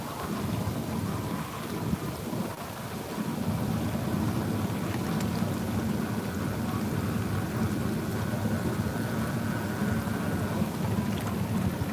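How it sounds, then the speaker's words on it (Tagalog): A steady low jacuzzi motor hum runs continuously beneath a constant rushing, bubbling wash of water, with no talking. "Naririnig ko yung yung motor ng jacuzzi sa ilalim."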